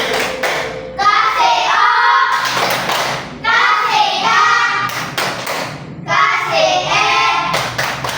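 Hand claps in a steady rhythm during a classroom clapping routine in a teacher-training lesson. The claps come between loud chanted letters, with voices leading throughout.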